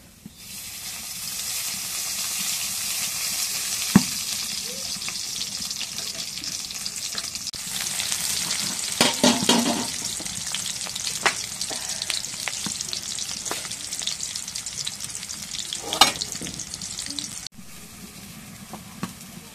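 Thick-cut pieces of goat tripe frying in oil, a loud, continuous hiss and sizzle that swells with stirring and occasional knocks before dropping off near the end, no talking.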